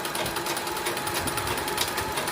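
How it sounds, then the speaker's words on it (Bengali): A sewing machine runs steadily, stitching a pico hem along the edge of a saree, a continuous close whirring with fast even stitch pulses and no talk. "এইভাবে পুরো অংশটা আমরা সেলাইটা করে যাব"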